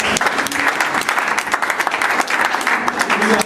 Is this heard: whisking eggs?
no